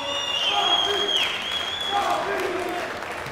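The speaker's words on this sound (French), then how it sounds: "J'aimerais qu'on applaudisse très fort donc nos deux boxeurs" Audience applauding two boxers at the end of a boxing bout, a steady wash of clapping from the crowd with a few high tonal sounds over it.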